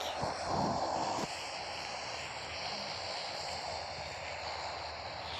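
In PUBG Mobile, an airplane's propeller engine drones as a faint, steady hum overhead, with a brief louder rumble near the start before it settles.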